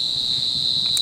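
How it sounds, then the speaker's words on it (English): Steady, loud cicada drone holding one shrill high pitch throughout, a continuous buzzing whine with no talk over it. "Cicadas."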